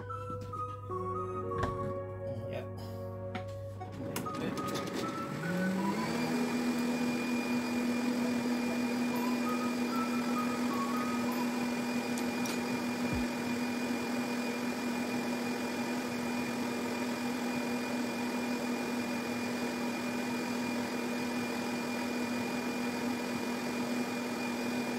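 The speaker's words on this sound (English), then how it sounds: "Blend it for about 1 minute or 2 minutes" A blender starts up after a few seconds and runs steadily, a loud continuous motor whir grinding ginger, garlic and turmeric.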